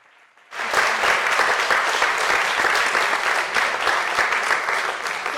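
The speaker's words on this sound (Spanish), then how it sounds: "un último aplauso a ellos" A crowd bursts into applause after a book presentation and literature and film talk. Dense, even clapping starts suddenly and continues loud and sustained.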